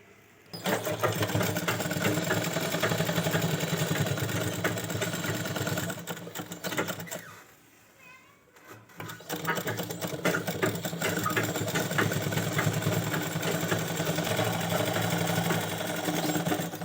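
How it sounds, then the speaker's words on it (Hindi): Sewing machine running steadily while double stitching the belt of a toddler's fancy baby gown, loud and close, with a short pause in the middle before the motor resumes. "अभी हमें यहाँ से फिर डबल सिलाई लेनी है"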